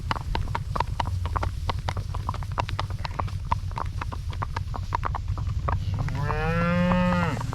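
Cattle on a 20 km cattle drive, with many hooves clopping in a rapid irregular rhythm throughout, and a loud close moo rising near the end.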